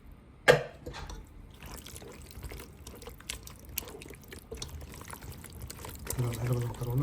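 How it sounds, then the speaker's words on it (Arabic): Pasta cooking water poured from the pot into an arrabbiata sauce with the pasta in a pan, a short splash followed by a soft continuous trickle and kitchen clatter, with voices talking. "هاخد شوية مية صغيرين من المكرونة"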